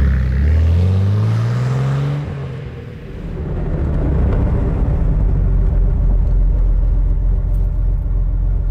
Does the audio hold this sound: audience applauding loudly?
no